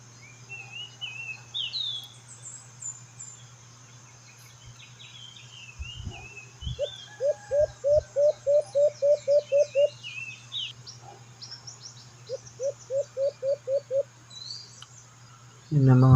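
Birds call from lower ground in an outdoor nature setting, repeating rapid bursts of short chirps in two distinct series, with faint scattered calls and a few low thumps in between.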